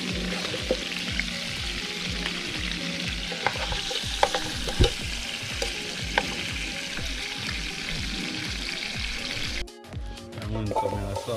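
Vegetables fry and sizzle steadily in a pan while a utensil stirs them in a regular scraping rhythm, close and constant, with a short break near the end.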